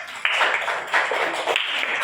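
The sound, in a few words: class applause, clapping hands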